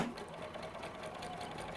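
A sewing machine runs steadily while sewing a short seam in a home workshop, a continuous close whirring drone from start to finish with no pauses.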